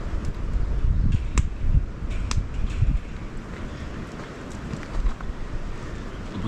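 Wind gusts blowing across an open-air campfire site, a steady low rushing buffet with a few sharp crackles or knocks, fairly close and continuous with no talking.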